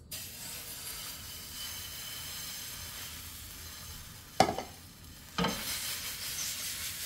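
A steady close sizzle of eggs frying in a nonstick pan, with a couple of brief scraping clatters partway through.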